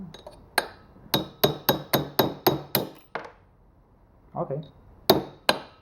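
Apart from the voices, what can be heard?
hammering on diesel engine cooling fins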